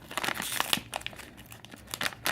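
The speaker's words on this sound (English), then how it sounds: "I'm just going to get our knife and kind of give that a little cut and tear that right open" A knife slits a plastic package for a car puddle light lens, then the wrapping is torn open with continuous crinkling and ripping, close and fairly loud with no talking.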